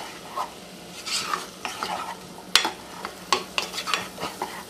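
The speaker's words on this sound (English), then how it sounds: "throwing in a couple of tablespoons of butter." Butter sizzling in a hot pan with onions as a turkey pot pie filling begins, a steady crackle broken by scattered scrapes and clinks of stirring, close and moderately loud.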